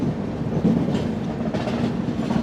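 A Garib Rath Express train runs steadily in an AC Economy coach, its wheels beating a continuous rhythmic clickety-clack over the rails with a low rumble throughout, and no voices.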